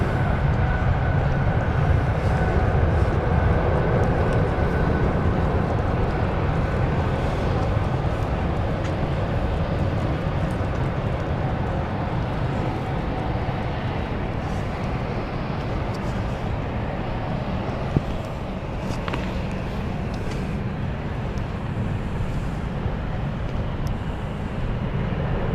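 A KLM airliner at London City Airport produces a broad, continuous engine rumble with a low roar that holds steady throughout, heard from some distance outdoors with no voices.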